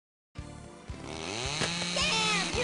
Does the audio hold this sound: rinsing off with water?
no